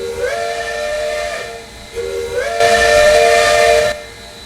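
East Broad Top No. 17 steam locomotive in the TRS19 train game sounds two shrill, piercing whistle blasts, the second longer and hissier, loud and close with no talk.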